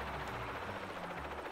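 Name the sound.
helicopter noises in video game Psycho-Pass: Mandatory Happiness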